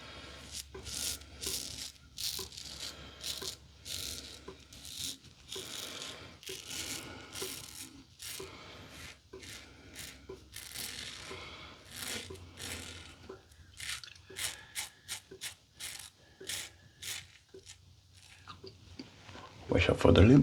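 Safety razor, a Blackbird Ti Lite, scraping across stubble in close, repeated short crunchy strokes with brief pauses, steady rhythm throughout, ending in a louder burst.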